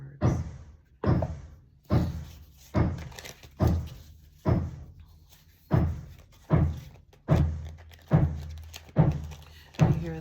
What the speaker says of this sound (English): You hear that banging? Some hammering.